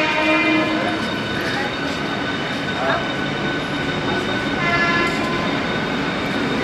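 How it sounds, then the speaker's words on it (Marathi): A local train rumbles past close by at a platform with a loud, steady roar, while voices murmur faintly beneath the noise. "हे बघा ट्रेन येऊ राहिली"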